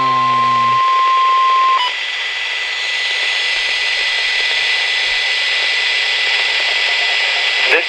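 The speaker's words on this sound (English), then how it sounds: "This is a test of the no-weather radio warning alarm." A NOAA weather radio warning alarm test tone sounds as one steady, loud, piercing pitch held for about two seconds after brief data-like bursts, then gives way to a harsh broadband hiss.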